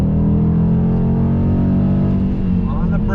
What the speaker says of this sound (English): But here we go, second gear, on throttle.